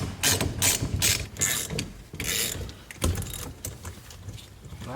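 Ratchet clicking away while a car's telescoping steering column is taken apart to reach the key lock cylinder, with fast bursts of close, bright clicks separated by short pauses and faint handling noise in between.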